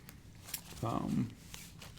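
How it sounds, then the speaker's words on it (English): A thick deck of double-sleeved cards is shuffled once at close range, giving a short riffling burst of about half a second with faint, quiet room noise around it. "let me finish shuffling real quick"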